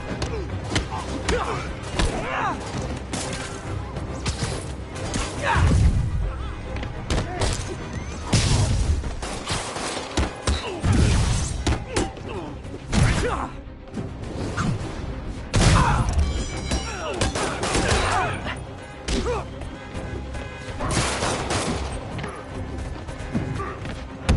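Dense, loud video game combat in Spider Cop Mysteries, with volleys of gunfire, crashes and heavy thuds that run continuously, with voices shouting over the din.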